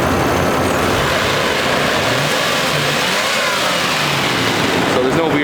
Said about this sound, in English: I'll give it a couple of revs for you.